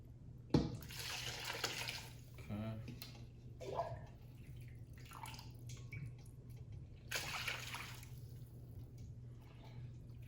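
Liquid is strained out of a cooking pot, a soft trickle and splashing of water with occasional drips, fairly quiet and close.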